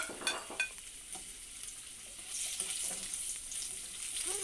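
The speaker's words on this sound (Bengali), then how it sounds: "এরপর আমি আলুটা ভালো করে ভেজে নেব" Potato pieces fry in oil with cumin seeds in a pan, a close, continuous sizzle with a couple of sharp utensil clicks at the start and the hiss swelling louder midway, no speech.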